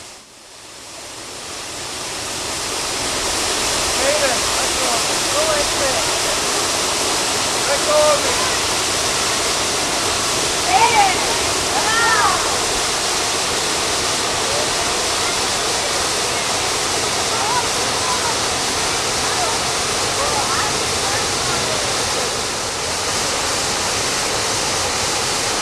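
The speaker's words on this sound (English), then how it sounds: "Millions of visitors each year are inspired by these falls." Multnomah Falls on the Historic Columbia River Highway, a 620-foot year-round waterfall, roaring as a steady broadband wash of falling water throughout, with faint narration over it.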